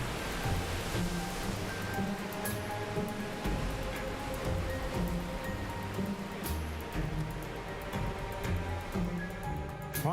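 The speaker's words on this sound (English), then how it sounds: "They rise and cool, then rain falls in torrents." Heavy rain pours down in torrents, a dense, continuous roaring wash heard alone without voices, with faint tonal background sounds underneath.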